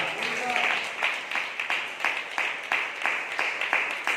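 A church congregation claps together in a steady, even rhythm at a quick pace, with voices carrying beneath the claps.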